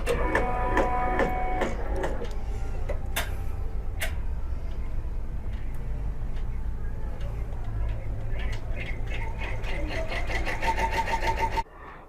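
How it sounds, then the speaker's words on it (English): A computerized embroidery machine stitches the top half of a split design, producing a steady, fast, rattling mechanical hum that runs continuously and then stops abruptly near the end. "Right now we're just going to sew."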